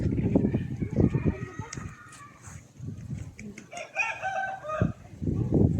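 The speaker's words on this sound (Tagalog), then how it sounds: "May mga manok." Chickens clucking nearby with a rooster crowing in the middle, outdoors at a school in a village, with scattered farmyard noises around them.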